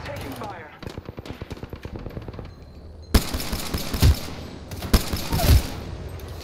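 Rapid gunfire rattles in a shooter video game: a fast, even string of automatic shots is followed by louder, denser bursts and heavier bangs, with game voices mixed in.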